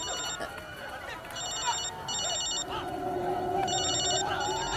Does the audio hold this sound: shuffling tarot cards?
no